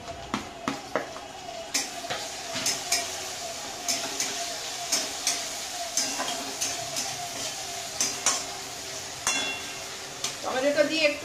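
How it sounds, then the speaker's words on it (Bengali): Onions frying in a pan with tomato added, stirred with a utensil: steady sizzle under repeated scraping and clinking strokes against the pan, close and moderately loud. "তো দেখো আমার পেঁয়াজ ভাজাটা হয়ে এসেছে, এবার আমি টমেটোটা দিয়ে দেবো।"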